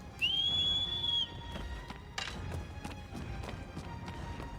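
In a video game, the player gives a sharp, rising whistle to call a horse, followed by soft footsteps and light thuds against a quiet background.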